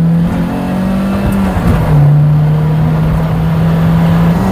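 A car accelerating hard along a country road, heard from inside: a loud, steady engine drone that holds and swells slightly over the few seconds, with no talking.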